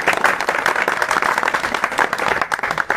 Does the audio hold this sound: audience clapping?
yes